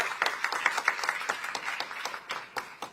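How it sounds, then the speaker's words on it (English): Moderate applause from an audience at a leaders' dialogue on green and digital maritime corridors, greeting Singapore's Deputy Prime Minister, with scattered claps forming a steady, fairly soft patter that thins toward the end. "Can we have a huge round of applause for Deputy Prime Minister of Singapore?"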